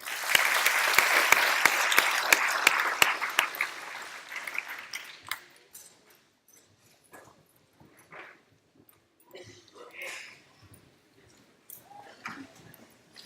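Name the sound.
graduation audience applause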